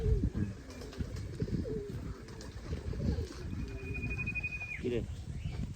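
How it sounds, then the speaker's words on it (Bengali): Pigeons coo softly and repeatedly nearby as they come running to a call, their low throaty notes mixed with a person talking close by and a brief whistle-like tone. "আমি কবুতরকে ডাকছি এরা হচ্ছে শব্দ পাইয়া এরা আসছে দৌড়ে"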